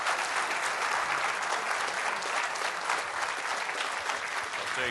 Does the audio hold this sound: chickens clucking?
no